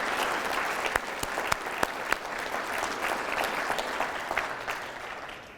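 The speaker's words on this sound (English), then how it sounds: "I'd love for some of our city employees that are here, if they would stand up, because I think they deserve a round of applause." Audience applause rings out steadily at a city State of the City address, honoring city employees, with a few sharper individual claps standing out near the start and the clapping carrying on for several seconds.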